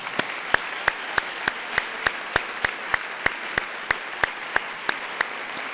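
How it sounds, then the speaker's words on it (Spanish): Sharp, evenly spaced claps beat in a steady rhythm, about three per second, at a Holy Week poster presentation event, ringing out clearly against a low hum of background noise. "un fuerte aplauso para ustedes"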